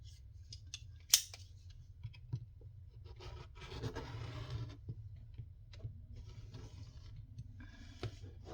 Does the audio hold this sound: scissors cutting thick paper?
yes